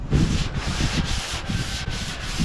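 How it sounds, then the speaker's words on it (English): Close, rhythmic rubbing strokes of wet sanding on a Ford F250 pickup's body panel, repeated back and forth at a steady pace, loud and alone. "You can kind of feel where it's starting to smooth up from the wet sanding"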